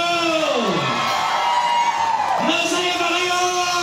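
An outdoor crowd at a barangay Christmas tree lighting shouts and cheers together. Loud, sustained voices rise and swell in a single roar, with a couple of pitch-sliding whoops running through the noise.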